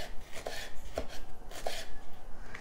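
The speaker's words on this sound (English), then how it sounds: "I just realized that I cannot cut and talk at the same time." A knife chops ingredients for kimchi fried rice on a cutting board, with a few distinct, evenly spaced close thuds over a quiet background and no speech.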